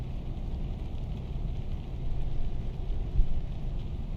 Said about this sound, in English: It's dark, it's like it's raining